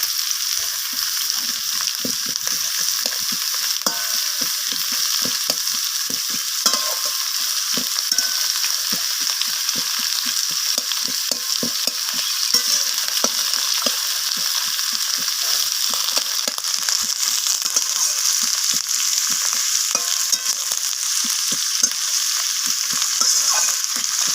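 Onions frying in oil in a pan while being stirred with a spatula, giving a steady close sizzle with a continuous crackle and small scraping strokes throughout, with no talking.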